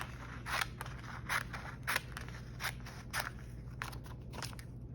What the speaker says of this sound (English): So now we have our image, and we're just gonna cut it.